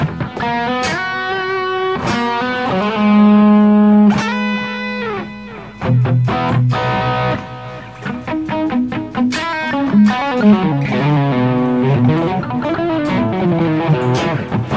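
Electric guitar through a Boss ME-25 multi-effects unit with controlled, low-gain distortion, playing a loud, continuous run of sustained chords and melodic phrases with a slight edge of grit.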